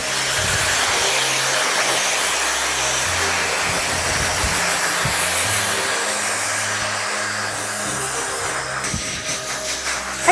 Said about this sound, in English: we're gonna do some blow drying